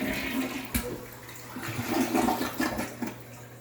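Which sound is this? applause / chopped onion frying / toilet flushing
toilet flushing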